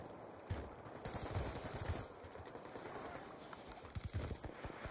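Rapid bursts of light machine gun fire, shot from the hip in Black Ops 2 on the Cove map, rattle out in dense loud volleys across the whole stretch, with brief gaps between strings of shots.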